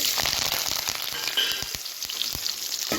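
Shallots, mustard seeds and curry leaves sizzling steadily in hot oil for a tamarind curry, a dense crackling hiss with scattered pops close up and no talking.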